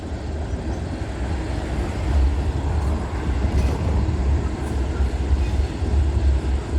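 A freight train with a BNSF mid-train DPU locomotive rumbles past close by, a steady low rolling roar of wheels and cars that holds and swells slightly throughout, with no talking.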